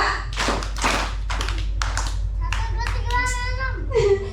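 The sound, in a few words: children clapping in a rhythmic clapping game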